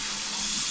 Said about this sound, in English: finally we have water. It is running in the house